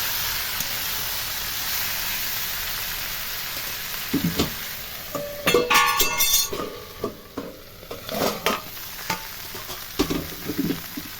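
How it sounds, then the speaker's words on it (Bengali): Vegetables for shukto fry in a pan as spice paste is stirred through them: a steady sizzle with repeated scraping, clinking utensil strokes against the pan, close up and with no talk. "মশলাটাকে সুন্দর করে এর সাথে মিশিয়ে দেওয়া হচ্ছে"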